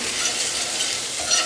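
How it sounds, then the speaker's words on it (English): Garlic and ginger paste sizzles steadily in a pan while a spoon stirs it round, a continuous close, bright frying hiss with faint scraping and no voices. "So just want to stir that round just with the back of the spoon."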